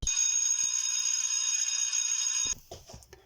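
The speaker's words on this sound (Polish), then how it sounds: "Chodź, bo dzwonek dzwoni." A loud, steady school bell rings without a break for about two and a half seconds, then cuts off abruptly, leaving faint rustling and small knocks.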